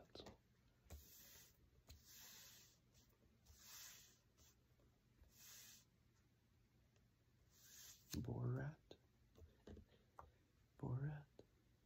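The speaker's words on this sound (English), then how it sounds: "A pencil again. I'm liking the sound of the pencil." A pencil scratches across a crossword puzzle in short, soft strokes during quiet, close-up whispering, with a few brief louder rustles breaking in toward the end.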